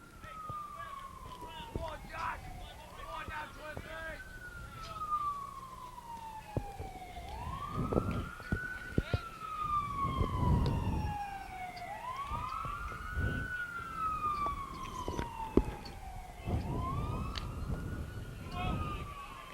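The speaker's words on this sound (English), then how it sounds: "Hearing that siren in the background" An emergency vehicle siren wails in repeated rising and falling sweeps, several seconds per cycle, moderately distant throughout a junior baseball state tournament game between Lebanon Warriors and Archbold Blue Streaks, with background voices and field noise underneath.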